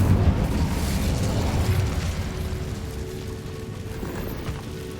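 The Incendio fire spell in Hogwarts Legacy bursts with a loud, sustained whooshing roar that rumbles low and slowly fades over several seconds, with no talking.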